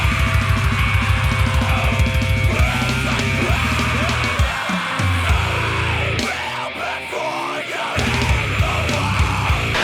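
Sludgy, grindy heavy music plays loud throughout: dense distorted guitars with harsh yelled vocals and a brief thinning of the sound just before the heavy wall returns.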